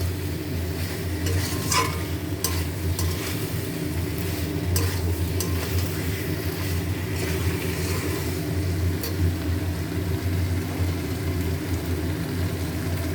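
Potatoes are stirred and fried in a pan, giving a steady soft sizzle throughout with scattered scraping clicks from the stirring utensil, close and moderately loud.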